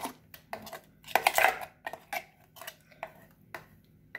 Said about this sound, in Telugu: ఇప్పుడు ఒక బౌల్లోకి తీసుకోవాలి.